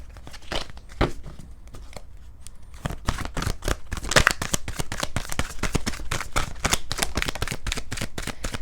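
Tarot cards are shuffled by hand in a long run of crisp, rapid riffling flutters, close and fairly loud, with a quieter start before the shuffling speeds up.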